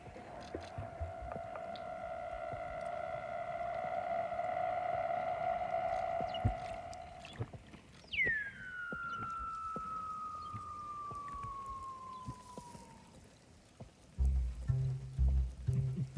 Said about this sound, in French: C'est le chant d'un phoque de Weddell.